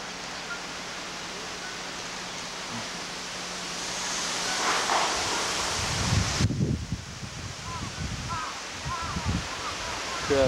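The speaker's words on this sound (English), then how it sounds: "Incredible wind." Strong wind blows outdoors, a broad rushing roar that swells midway with gusty buffeting against the microphone, while people talk faintly underneath.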